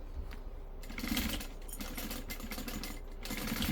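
A sewing machine stitches a seam on the front slip pocket of a handmade bag, running in quick close bursts of rapid needle clatter with brief slowdowns, fairly quiet and steady throughout.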